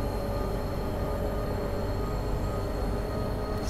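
An ÖBB 1293 Siemens Vectron electric locomotive at full power in Train Simulator 2020, hauling loaded wagons on the Salzburg–Wels Westbahn, gives a steady, loud rumble with constant tonal whine and hum, unbroken throughout.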